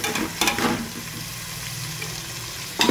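Ginger garlic paste and coriander powder sizzle steadily in a hot pan for a vegetable pulao, with louder stirring scrapes at the start and end.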